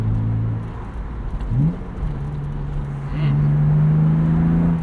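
Engine of a 1999 BMW M Roadster heard from inside while driving, a steady close drone that climbs, dips through a gearshift, then pulls up again and holds.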